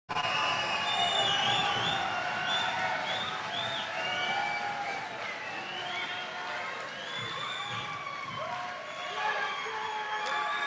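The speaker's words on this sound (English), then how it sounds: "I guess I don't have to ask you all to applause" Sustained applause and cheering from a large crowd at an outdoor college commencement ceremony, loud and steady for over ten seconds, with whoops and whistles rising above the clapping.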